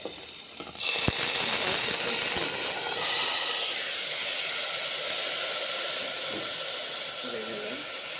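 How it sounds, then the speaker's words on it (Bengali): Soaked broken wheat and masoor lentils hit a hot pan with oil for khichdi, setting off a sudden loud hiss and sizzle that settles into a steady frying crackle, no talk. "তারপরে ভেজে নিয়ে তারপরে এই যে ভিজিয়ে রাখা ডালিয়া আর ডালগুলোকে দিয়ে দেবো"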